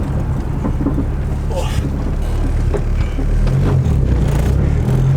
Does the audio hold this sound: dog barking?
no